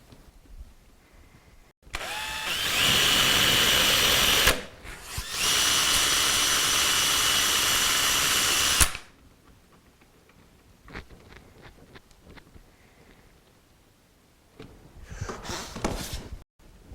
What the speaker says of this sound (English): I'm going to put a couple screws in to hold the runner on